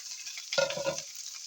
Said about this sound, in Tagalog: I will fry also rice. As you can see, the garlics, abundance of garlics.